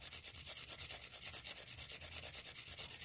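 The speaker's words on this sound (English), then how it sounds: "take your coffee bean and take your little grater. Move this up here a little bit and just kind of grate that coffee bean right over the top" A single coffee bean rubbed over a small hand grater, a steady rhythmic rasping scrape repeating several times a second, close and fairly quiet with no talking.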